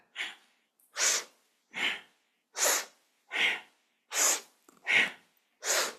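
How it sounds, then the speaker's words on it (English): Kundalini yoga breathing, eight strong rhythmic breaths alternating exhale and inhale about every 0.7 seconds, each a loud, close, airy rush with brief silences between them and no talking. "Exhaling down, inhaling up, exhaling down, inhaling up."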